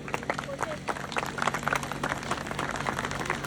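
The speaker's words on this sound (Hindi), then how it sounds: "जोरदार तालियां बजनी चाहिए।" Applause at a ceremony welcoming a minister with a bouquet, on a cold day, as dense steady clapping from a crowd runs throughout with murmuring voices mixed in.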